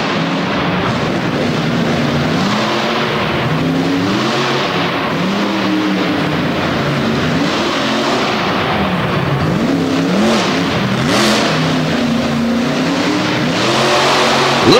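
A racing truck launches off the line at a drag race, its engine roaring loud and continuous with wavering revs and crackling exhaust for the whole run.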